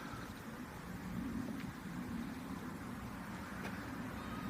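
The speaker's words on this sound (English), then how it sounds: "all this traffic is coming home from work, which is why it's a bit noisy" Steady roadside traffic from rush-hour cars heading home from work near Armbouts-Cappel, France, a continuous low rumble and hiss with a couple of faint passing swishes, no voices.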